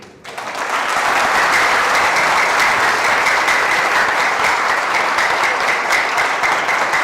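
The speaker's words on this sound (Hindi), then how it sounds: "वो तालियां बताती हैं कंटिन्यू" A studio comedy show audience breaks into loud, sustained applause that rises sharply after a brief quiet start and keeps a thick, even roar of clapping throughout.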